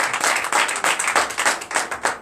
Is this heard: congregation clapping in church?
yes